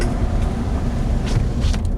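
Power windows of a truck rolling up, a steady electric motor whine inside the cab over low engine and road rumble, lasting about two seconds.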